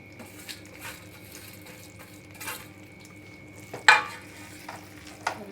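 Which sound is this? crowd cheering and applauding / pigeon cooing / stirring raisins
stirring raisins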